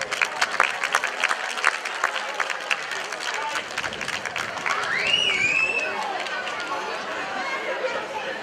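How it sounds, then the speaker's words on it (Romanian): Outdoor audience applause at a village festival welcoming a comedy duo, rhythmic clapping with chatter mixed in and a brief whistle partway through. "aș vrea să-i întâmpinăm cu aplauze și cu toată căldura pe domnul Romică Zociu și Cornel Balade"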